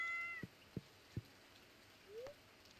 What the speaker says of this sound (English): Wait, I need to pet the cat.